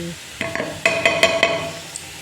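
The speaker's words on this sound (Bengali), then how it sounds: "এবার কিন্তু এটা শিলে বাটলে বেশি স্বাদ লাগে এই জন্য শিলেই বেটে নেবো" Spices such as black cumin, white cumin and chilli being ground on a traditional shil nora stone slab: a handful of short, close scraping strokes in an uneven rhythm, with no talking.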